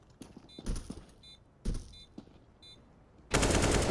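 Gunfire from CS:GO comes in sharp bursts of rapid shots. Two clusters are followed by a dense, loud barrage at the end, with brief metallic clinks between the bursts.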